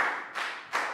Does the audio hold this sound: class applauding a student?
yes